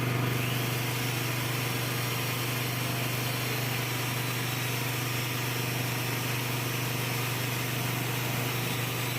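A power drill bores into a clutch part from a KLX motorcycle, working on the outer side of the piece, giving a steady, loud, continuous whine with a constant hum throughout and no pauses or talk.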